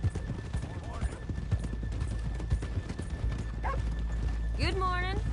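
Horses' hooves clip-clop steadily in Red Dead Redemption 2, close and continuous, with a horse whinnying near the end and voices speaking over the hoofbeats.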